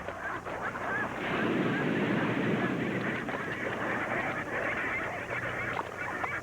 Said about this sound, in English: These rockhopper penguins flock each year to this desolate rookery near Tierra del Fuego, Argentina